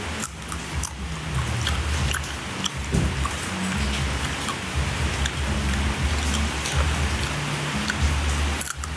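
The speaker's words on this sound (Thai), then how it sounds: "ฝนตกลมเย็นอากาศดี" Steady rain falls with a constant broadband hiss and scattered drops, a low rumbling wind undertone running throughout, no voices.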